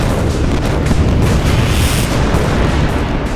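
Austrian cannon fire in a reenactment of the Battle of Marengo, heard as a loud, continuous rumble of booming artillery with no distinct separate shots, alone without speech.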